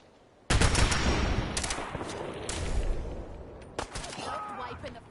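Rapid bursts of gunfire in the video game Fallout 4 erupt loud and close, a sustained volley followed by a second burst near the end, with a voice talking over the shooting.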